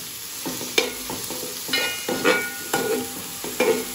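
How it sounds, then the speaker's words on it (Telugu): Onion curry is stirred in a pan, with repeated scraping and clattering strokes of a spoon at an uneven rhythm over a steady sizzle, close and fairly loud, with no talking. "ఇప్పుడు ఒకసారి కలుపుకుందాం"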